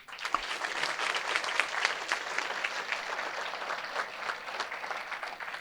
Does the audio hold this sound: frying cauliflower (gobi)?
no